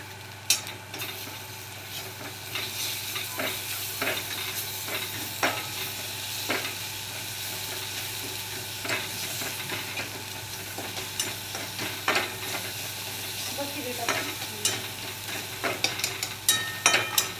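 A ground spice paste fries in a pan while being stirred, giving a steady close sizzle broken by repeated scraping and tapping of a spoon against the pan, with no talking.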